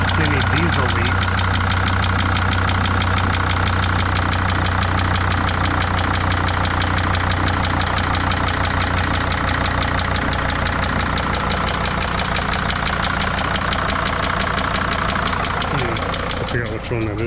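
A 2006 Mercedes Sprinter T1N diesel engine idles smoothly and continuously up close, with a persistent rapid injector tick clattering over the steady low rumble throughout.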